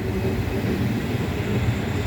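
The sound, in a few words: Commuter Line train passing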